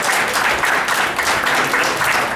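A comedy club audience applauds and cheers for a stand-up comedian finishing a set, a loud, dense wash of clapping that swells in waves.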